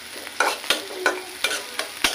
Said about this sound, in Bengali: লইটা সবজির জন্য পেঁয়াজ মরিচ একটু ভেজে নিয়ে আমরা একটু ব্রাউন কালার করতে পারি।